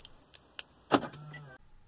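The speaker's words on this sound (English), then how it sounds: "then test the locks" Volvo car door locks actuated by a key fob: a few faint clicks, then a single loud mechanical thunk followed by a brief motor whir that cuts off sharply.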